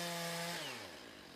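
Chainsaw milling a log on a PortaMill PM14 chainsaw sawmill, a loud, steady whine that drops in pitch as the engine bogs down into the cut.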